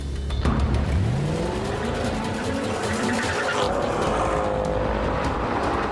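Two luxury saloons, a Mercedes S63 AMG and a BMW 760Li, launch in a drag race, engines roaring loudly and revving up through the gears with rising pitch, tyres squealing, a continuous close, powerful engine din throughout.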